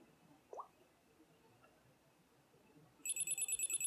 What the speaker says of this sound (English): So this is beeping, saying that it's paired.